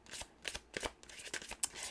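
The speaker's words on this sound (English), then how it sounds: "Let's get a couple more shuffles in for Aquarius." A deck of tarot cards is shuffled by hand at close range, a quick run of riffling bursts and soft flutters with no talking.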